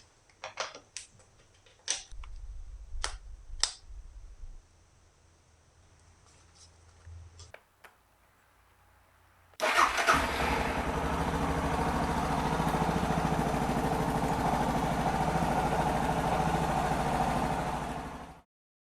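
A Suzuki DR650 motorcycle engine fired up with a jump pack: a few clicks and short bursts come first, then after a pause the engine catches and settles into a loud, steady close-up idle that runs until an abrupt stop.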